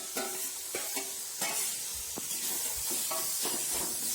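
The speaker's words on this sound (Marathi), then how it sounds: "हे स्मॅश केलेलं वांग टाकलं." Mashed roasted eggplant for bharit being sautéed in a pan, rhythmic spatula scrapes and stirring strokes over a constant soft sizzle, close and steady.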